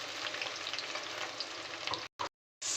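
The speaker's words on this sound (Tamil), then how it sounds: "வெங்காயத்தை எண்ணெயில நல்லா வதக்கி விட்டுக்கோங்க." Sliced onion fries in oil with a loud, even sizzle and faint stirring, then it cuts off abruptly into brief silences near the end.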